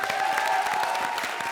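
A studio audience claps and cheers for contestant Vikalp on a comedy show, a dense, lively burst of applause with a tonal hum running underneath.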